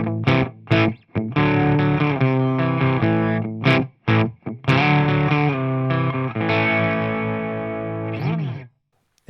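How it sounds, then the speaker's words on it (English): Distorted electric guitar chugs through a heavy, saturated rock riff with brief stops between phrases, loud and close, the tone slightly out of tune and studio-polished, ending in a short silence. "It sounds like an overproduced guitar in a studio."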